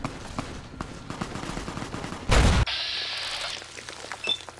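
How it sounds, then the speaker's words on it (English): Grenade launcher firing in Fallout: New Vegas, heard as one loud, close, booming blast that cuts through a background of scattered gunfire, followed by a sustained ringing hiss. "Is that a freaking grenade launcher?"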